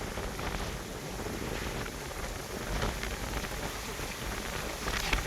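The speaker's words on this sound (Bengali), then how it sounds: "এত জোরে বৃষ্টি হচ্ছে কেউ আর থাকতে পারবে না" Heavy rain pours over rice paddies during transplanting, a dense, even hiss of drops on water and ground that holds steady with slight swells, fairly close with no voices.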